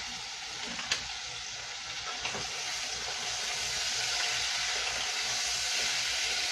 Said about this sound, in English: I just kind of let it do a simmer type thing on a medium-high heat for a little while